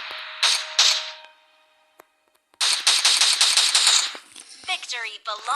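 Rapid bursts of automatic gunfire from a weapon in the PUBG video game, two short volleys then a longer sustained burst, loud and close, followed by quick chirping effects.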